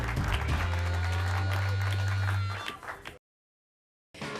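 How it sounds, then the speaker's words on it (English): A round of applause at a poker final table in a casino, clapping and crowd noise layered with a loud sustained low musical tone, cutting off abruptly into silence before briefly resuming. "Look at the round of applause."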